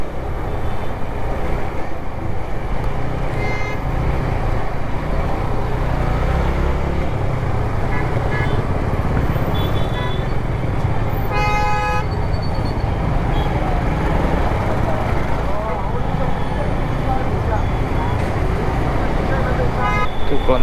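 Congested city traffic in Bengaluru on the Hebbal to Electronic City route, heard from a motorbike: a constant dense roar of engines with a cluster of sharp horn toots midway, and voices talking over it.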